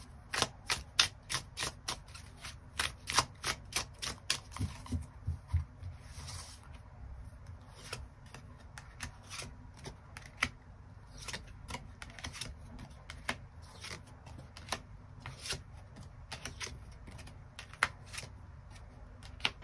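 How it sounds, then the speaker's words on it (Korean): Tarot cards are shuffled and drawn by hand, giving quick, crisp riffling flicks and snaps that repeat close up and fairly softly, in dense runs early on and sparser taps later. "두 사람의 흐름에 대해서 추가 카드 뽑아보도록 하겠습니다"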